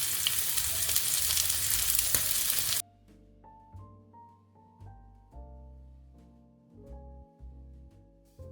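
An entrecote steak sizzles loudly in a hot pan for nearly three seconds, then the frying cuts off sharply and gives way to soft tonal clinks and low hums with no talking.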